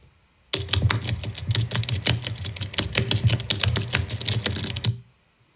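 Rapid, steady keyboard typing for a text animation, a dense run of crisp close key clicks lasting several seconds and then stopping abruptly.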